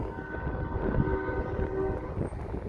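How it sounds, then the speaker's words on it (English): A train horn sounds in a sustained blast over a rumbling background, fairly loud and steady, fading briefly before sounding again. "He's got an exact train horn sound."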